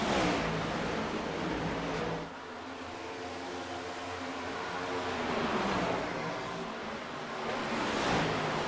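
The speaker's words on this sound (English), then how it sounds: "Apologize for the car audio issues." Distorted, harsh race car engine audio from an iRacing NASCAR sim race at Dover, a continuous buzzing roar that swells and dips as the car accelerates and lifts, with no talk.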